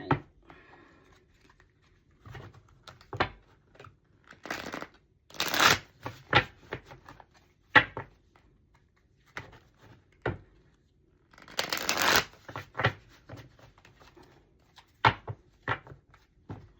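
A deck of tarot-style reading cards is shuffled in bursts of crisp riffling and soft slaps, close and fairly quiet, with pauses between bouts and no talking.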